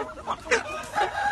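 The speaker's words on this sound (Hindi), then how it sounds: "तो ये देसी मुर्गे हैं।" A desi Aseel rooster crows on a farm, a short, loud, close call standing alone with no talk over it.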